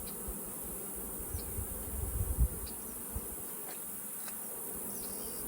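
Faint, steady insect buzzing from bees at an open beehive with honey flow on, a soft continuous drone with a few brief louder passes and light handling bumps, heard without voices.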